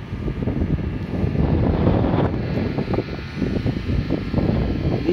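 Cold wind gusting across an elevated platform at a railway station, a broad steady rumble and buffeting that swells and eases throughout, with no speech.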